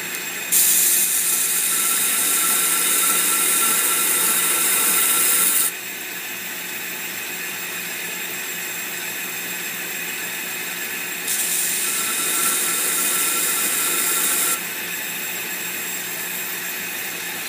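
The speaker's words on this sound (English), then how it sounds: "I cock it into about a 35-degree angle just to grind this down to the same thickness as the edge" A knife edge is ground on a grinder at about a 35-degree angle, giving a steady high whirring hiss with two louder scraping passes of metal against the wheel, each lasting several seconds.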